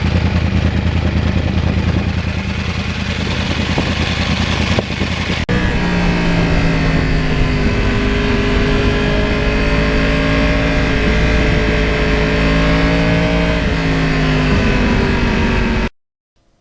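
A 2009 Yamaha R1 crossplane sport motorcycle under way, its engine droning loudly and steadily with rising and falling pitch as it accelerates and shifts, heavy wind rush, close and continuous until it cuts off abruptly.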